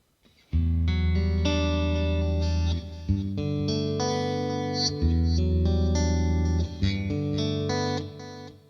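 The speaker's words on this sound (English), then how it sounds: "So if I turn on my delay," An electric guitar through a Fractal Audio preset with delay and reverb plays chords and single notes with repeating echoes trailing each phrase, loud and close, with no voices.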